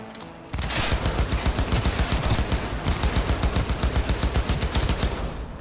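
Automatic gunfire from a weapon in Cyberpunk 2077. It fires in one loud, unbroken stream of rapid shots that runs from just after the start to the end, with no talk.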